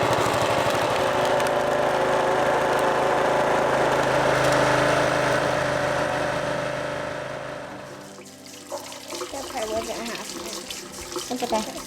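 A small replacement gas engine of about $200, fitted to a homemade log splitter, runs with a loud steady drone for roughly eight seconds, then drops away, leaving clattering noises and faint voices.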